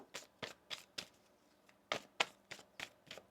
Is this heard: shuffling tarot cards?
yes